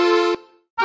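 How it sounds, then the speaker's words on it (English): Short accordion notes sound from a children's orchestra treasure hunt game, one bright reedy blast that cuts off, followed by the start of another, close and clear with no talking. "You found an accordion."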